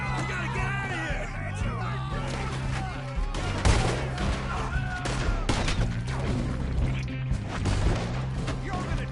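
Dense gunfire rolls through a Red Dead Redemption 2 shootout: continuous overlapping shots and impacts over a low rumble, with characters shouting over the fight.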